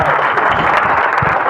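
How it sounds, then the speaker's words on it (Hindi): An audience at a talk bursts into loud, dense clapping that fills the entire brief moment without a pause. "एक बार ताली बजा दो, बातचीत शुरू करें।"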